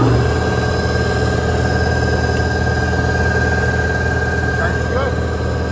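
A rebuilt Ford Y-block 256 Interceptor marine engine, 135 hp, running steadily at idle on a stand with a reverse-rotation charging generator hooked up, giving a loud, continuous, even drone that holds at one level throughout with no voices over it.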